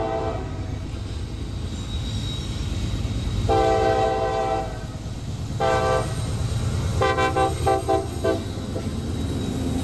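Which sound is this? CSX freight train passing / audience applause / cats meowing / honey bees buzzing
CSX freight train passing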